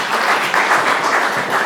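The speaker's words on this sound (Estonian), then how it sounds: "Aplaus Ulvile." Audience applause greeting the next speaker, Ulvi Meier, head of the Kolga museum and local historian, at a talk event; steady, dense clapping from a crowd throughout, with no voices over it.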